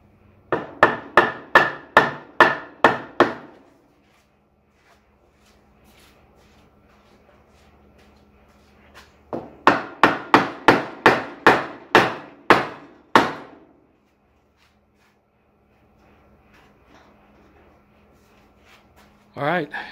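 A wooden center brace tapped into a fence gate frame, two close runs of rapid hammer taps separated by a quiet pause, with a single knock at the end and no talk.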